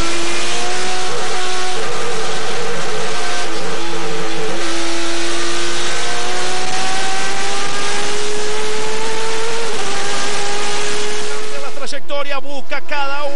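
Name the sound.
Turismo Carretera race cars speeding past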